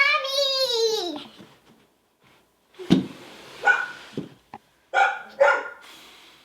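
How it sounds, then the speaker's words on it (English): A dog yaps in a back room of a house, giving several short sharp barks in the second half, preceded by a voice calling out. "there was a dog yapping in one of the back rooms"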